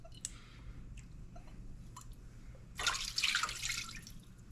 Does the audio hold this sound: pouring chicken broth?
yes